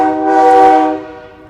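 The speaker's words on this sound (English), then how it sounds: "we got trains and trucks that sound like trains" A loud, sustained train horn blast with a steady harmonic tone, swelling and then fading over about a second and a half, with no voices.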